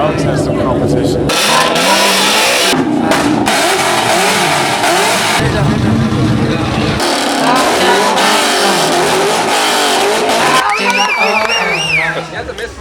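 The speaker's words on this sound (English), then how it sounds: "That's a misfire" A Cobra car engine revs hard and misfires, popping and stuttering through loud bursts of throttle near a crowd, with people talking over it.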